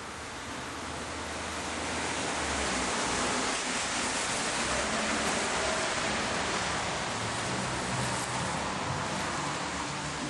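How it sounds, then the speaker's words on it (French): Steady rain falls outdoors in Belgium, a soft continuous wash of hiss that swells slightly after the first couple of seconds and stays even, faint and diffuse, with no voices. "Il pleut tout le temps ici."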